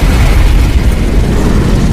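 A continuous, loud low-end boom from an explosion in an action film, as a character is blown up; heavy rumbling blast that fills the full two seconds with no voices.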